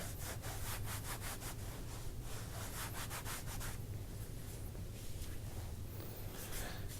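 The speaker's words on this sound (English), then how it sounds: "I like to use this microplane for zesting." A lime being zested with a microplane over a cutting board, quick rhythmic rasping strokes close up, fast and regular at first and then looser, with no talk.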